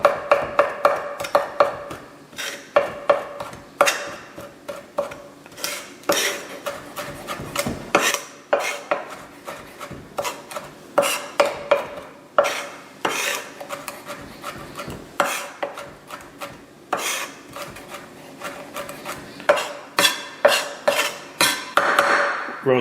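A knife chopping fresh rosemary on a board, a long run of quick rhythmic taps and scrapes in bursts, close and fairly crisp, with no talking.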